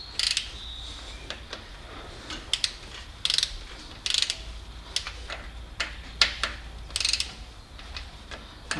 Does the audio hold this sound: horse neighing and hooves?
no